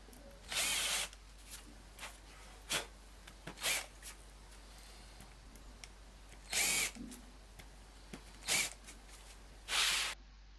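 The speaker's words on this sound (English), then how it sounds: "Then I drilled some holes to mount the beams to the wall." Power drill boring holes into wooden beams for wall mounting, heard in several short bursts of about half a second each, spaced irregularly across a quiet workshop background with faint clicks between them.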